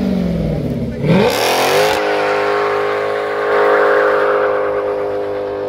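A Chevrolet Corvette C7 sports car at a supercar meeting revs loud and close, then accelerates away with a long, rising engine note while people talk nearby.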